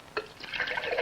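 Water splashes and trickles as it pours into a can of Snowcrop orange juice concentrate, a brief close liquid pour starting with a small splash.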